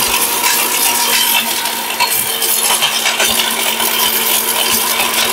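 An Orpat 1600W blender with a ball-bearing motor runs steadily, a loud continuous whirring hum with a gritty rattle of contents, no talk over it.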